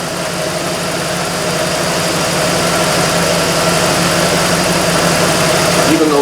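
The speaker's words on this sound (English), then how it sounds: "the engine is continuing to warm up" A barn-find Chevrolet IROC-Z, with its coolant overflow level dropping, idles while warming up and running hot. The close, loud, steady engine drone and fine mechanical vibration stay constant throughout.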